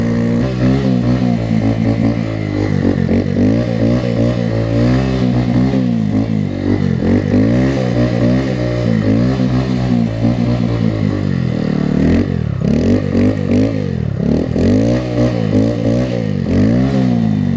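A motorcycle engine revs and surges repeatedly while the rider pulls wheelies on snow, loud and close, rising and falling in pitch with rapid throttle blips and a brief drop near the end.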